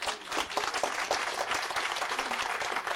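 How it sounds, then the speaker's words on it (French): Dense, steady audience applause fills the hall at a cardiology round-table session of a 2024 Loire health day, loud and continuous throughout with no voices over it. "on peut les applaudir"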